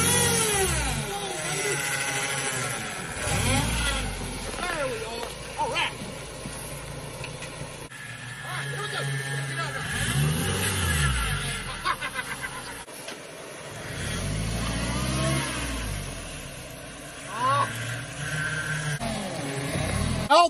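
A Toyota Tacoma truck engine revs repeatedly, rising and falling in several loud surges with idling between them, heard up close over about twenty seconds.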